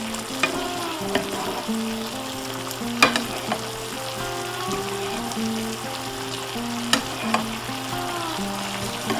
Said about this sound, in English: I'm just going to spoon over the steak